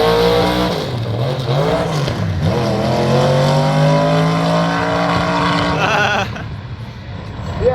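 A small block Chevy drag car screams as it accelerates hard, engine pitch climbing steadily through the gears until it runs out of gear and the revs flatten near the top, loud and close with no talking.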